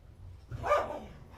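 A dog gives a single short, excited bark, somewhat muffled and moderately distant, rising out of a quiet room hum.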